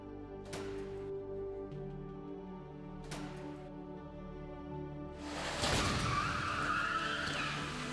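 Crash test between a 1959 Chevy Bel Air and a 2009 Chevy Malibu: two sharp transients over low droning tones, then a loud crunching impact burst followed by sustained noisy rumble and scraping.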